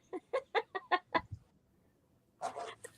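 Backyard chickens cluck in a quick rhythmic series of six or seven short, close calls, followed after a brief quiet gap by a louder, rougher burst of squawking.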